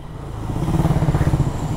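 A BMW big bike motorcycle working as a habal-habal taxi idles and revs nearby, its steady pulsing engine rumble rising slightly and holding at a moderate level.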